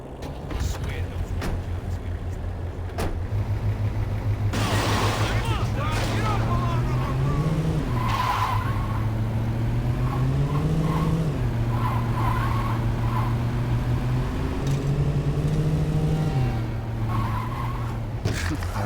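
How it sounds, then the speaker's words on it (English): A car in the video game Saints Row 2 drives and skids, its engine droning steadily close up while the pitch climbs and drops through repeated gear changes for the whole stretch. "I think this car is gonna be much better for doing all those stunts."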